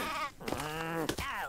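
Sheep in the game Craft the World bleating, two or three wavering, nasal calls close up, with a short pause between them.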